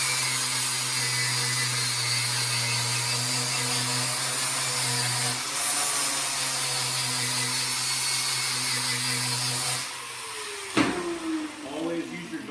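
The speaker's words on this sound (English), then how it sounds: "Always use your guards on your angle grinders, kind of one of the biggest things." An angle grinder cleaning bare metal ahead of a fillet weld in a GMAW welding setup runs loud and steady, a continuous whine that drops away near the end, followed by a few knocks and handling sounds.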